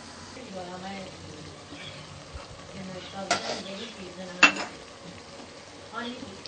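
A spoon stirs an aloo gobhi curry of potato, cauliflower, carrot and peas in a pan on low heat, giving a couple of distinct metallic clinks over a soft, steady cooking hiss, with a voice faintly in the background.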